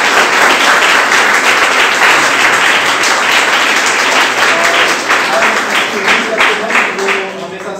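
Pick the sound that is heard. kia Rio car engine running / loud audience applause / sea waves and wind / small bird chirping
loud audience applause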